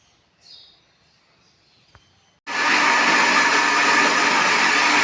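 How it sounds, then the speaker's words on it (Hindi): An electric grinder grinds chana dal for halwa: after a quiet start with a single faint click, the motor suddenly roars to life with a loud, steady, harsh whirring that runs to the end. "ये देखें, हलवे की दाल, चने की दाल जो है हमने ग्राइंडर में डाल दी है इसको ग्राइंड करने के लिए। अब ये ग्राइंड होगा"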